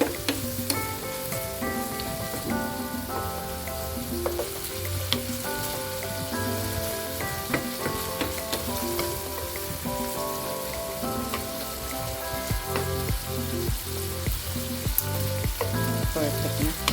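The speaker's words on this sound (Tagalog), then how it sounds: "Ayan, haluin na lang natin siya mga suki." Squid and cabbage stir-fried with sweet chili sauce sizzle loudly and steadily in a hot pan, with a spatula stirring and scraping through the constant crackle.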